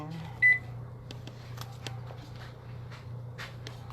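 A microwave hums steadily at low volume, with a beep near the start and another at the end, plus faint clicks and rustling.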